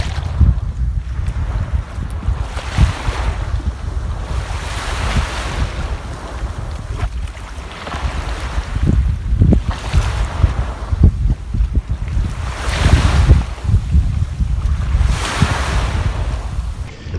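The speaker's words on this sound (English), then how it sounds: "the sea is a little bit too rough" Rough sea waves surge and crash along the shore in strong wind, with heavy wind buffeting on the microphone and repeated swells rising and falling, no voices.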